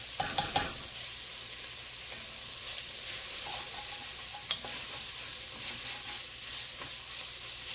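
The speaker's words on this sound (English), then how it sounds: "I want it to saute a little bit." Frozen carrots and garlic sauté in a pan for braised short ribs, making a soft, even hiss. A few clinks and stirring scrapes sound near the start, with more scattered through the rest, and no one talks.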